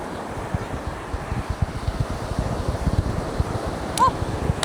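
Wind blowing across the beach shore at El Nido, Palawan, steady gusty buffeting against the microphone with low rumbling bursts throughout, a brief voice calling near the end.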